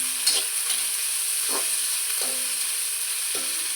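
Sliced onions fry in oil in a pan, giving a steady, bright hiss with a few soft stirring scrapes and taps at intervals, and no talking.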